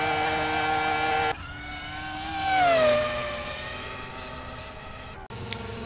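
A Dacia Logan fitted with a V10 engine racing on the Nordschleife gives a loud, sustained engine roar rich in harmonics, climbing in pitch as it revs, then dropping to a steady drone before a brief gap and a return.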